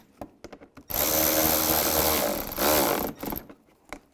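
A power tool runs in one long, loud burst, tightening the front bumper bolts on a 2007-13 Chevy Avalanche after a few short clicks and taps, then stops with brief handling sounds.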